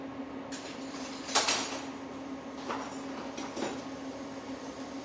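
A teaspoon is pulled from a cutlery drawer in a home kitchen, a few quiet metallic clinks and rattles against a steady background hum, with no talking.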